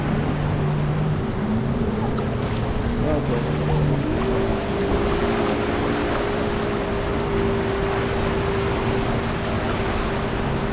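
A powerful motorboat engine drones steadily as the boat speeds over waves off Patong, its pitch shifting slightly, with rushing water and wind noise throughout.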